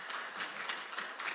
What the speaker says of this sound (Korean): 열강을 해주신 교수님께 다시 한번 박수 부탁드리겠습니다.